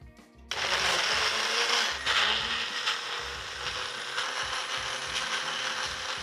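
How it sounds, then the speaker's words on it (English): A countertop blender whirs on suddenly and grinds a cucumber gazpacho mixture with lemon juice and salt, a loud steady churning whine with slight shifts in pitch as the contents break down. "So now I'm just gonna blend this up till it's nice and smooth."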